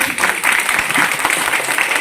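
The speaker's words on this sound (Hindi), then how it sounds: "तालियां इनके लिए।" Loud, dense applause from a gathering at an International Women's Day celebration in a party office, honouring a national award winner, brief and sustained at a steady level.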